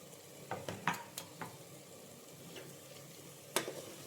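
Mushroom biryani being stirred in a pressure cooker with coriander and mint leaves added: scattered scraping clicks and soft stirring knocks over a faint sizzle, moderately near with gaps between strokes.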